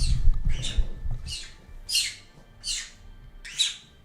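A pet bird squawks close to the mic in a room, giving about six sharp, loud calls in a steady rhythm, with low household rumble underneath.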